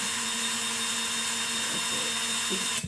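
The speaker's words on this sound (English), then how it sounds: "I feel like the drill, if you go a little fast, it makes that friction, like the heat." A power drill whines steadily as it bores through a plastic cup, a continuous buzzing motor with a slight shift as the bit works in, then stops abruptly at the end.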